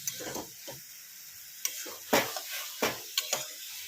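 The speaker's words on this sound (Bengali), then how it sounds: "এবার কষাতে কষাতে বাকি রান্নাটা করি।" Mutton mince sizzles as it is stirred and fried in a pan for kosha, with a soft continuous hiss and scattered scraping and tapping of a spoon against the pan, close and moderately loud, with no talking.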